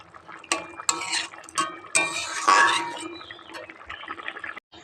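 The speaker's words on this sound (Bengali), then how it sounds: "আমি এবার এখানটায় এই যে ধনেপাতা আর ডিমের মামলেটটা দিয়ে দেব।" Chopped coriander and a cut-up egg omelette go into a bubbling cooking pan, with clattering spoon and pan knocks, stirring and wet sizzling close up.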